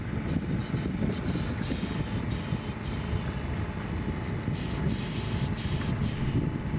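A DIY inboard electric motor drives a small boat along at about five knots, giving a steady, continuous rumble of motor and water with wind buffeting the microphone throughout.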